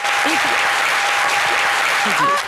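Steady, dense applause from a TV studio audience on Ivorian channel RTI 1's midday show fills the whole stretch, with a voice briefly audible beneath the clapping.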